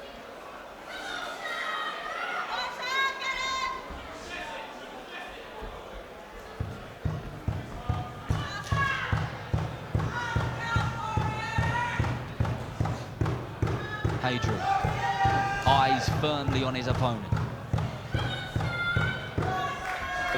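A crowd beats a drum at a boxing match, steady rhythmic thumps pounding through the arena under a ringside commentator's continuous talk, the beat entering partway through and continuing to the end.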